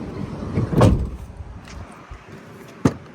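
The sliding side door of a new 2025 Ford Transit 350 van, heard as a muffled rolling slide followed a couple of seconds later by a sharp single clunk as it shuts, close by, without talking.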